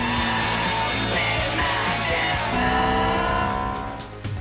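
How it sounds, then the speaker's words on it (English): A Ferrari F430 Spyder drifts and slides at about 110 miles an hour, its engine roaring loudly as the tires squeal and skid continuously, fading slightly at the end. "We're drifting, we're sliding at 110 miles an hour."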